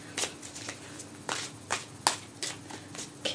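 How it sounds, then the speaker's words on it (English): Tarot cards are shuffled by hand in a quiet room, giving a series of soft, crisp riffling bursts spaced irregularly about half a second apart. "Just shuffle just a little bit more."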